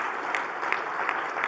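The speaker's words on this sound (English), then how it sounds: "I think everybody should give a big round of applause to Nectaria and her brilliant team" Audience at a government roundtable conference applauding, a dense steady patter of many hands clapping at close range that holds evenly throughout.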